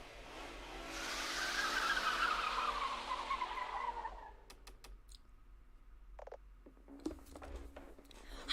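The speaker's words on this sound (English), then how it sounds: "Sounds like cars." Video game cars skid with a drawn-out tire squeal that swells and fades over several seconds, followed by sparse clicks and a low hum.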